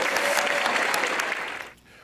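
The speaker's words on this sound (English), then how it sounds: "Give her a round of applause." Audience at a magic show applauds a volunteer with a brief burst of clapping, fairly full and steady, then dropping away abruptly to near quiet.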